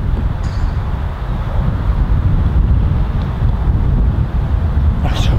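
Strong wind buffets the microphone on a golf course, a continuous loud roaring rumble with gusting swells throughout, and a brief faint voice near the end.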